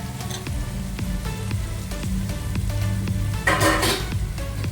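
Chopped tomatoes fry in a pan of mushroom biryani base with a continuous close sizzle and crackle, interrupted by scraping stirs and a louder burst of spitting near the end, with no talk.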